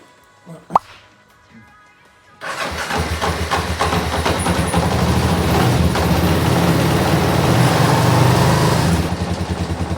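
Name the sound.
motorcycle engine idling while warming up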